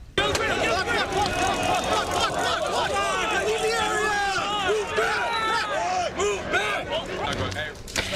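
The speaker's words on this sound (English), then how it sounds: "Take a look at this massive crowd on the Balboa Peninsula Saturday night." A large, dense crowd gathered at night on the Balboa Peninsula, with many young people packed together, produces a continuous loud hubbub of overlapping voices and shouts, steady and close throughout.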